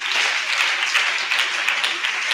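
Congregation applauding during a Sunday Mass as a school principal is welcomed: a loud, dense wash of many hands clapping together, sustained and even throughout, with no one talking over it.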